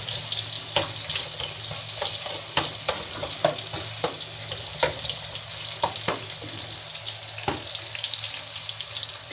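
Ginger and tomato sautéing in a pan for a chicken soup with eggs, a steady close sizzle broken by sharp clicks and scrapes of stirring throughout.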